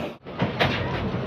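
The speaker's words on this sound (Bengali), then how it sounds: "আর এখানে দেখুন একটা ট্রেন ঢুকছে, কামাখ্যা জাংশন টু দিল্লি, একটা ট্রেন ঢুকছে।" Passenger train (Kamakhya Junction to Delhi service) pulling into the platform at Pandit Deen Dayal Upadhyaya (Mughalsarai) station, a steady rumble with brief clanks and a door-like clatter over a short stretch.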